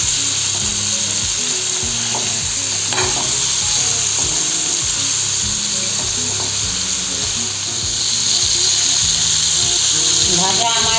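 Pointed gourd (potol) frying in hot oil gives a loud, continuous sizzle with bubbling crackle and occasional stirring scrapes, while a voice talks over it.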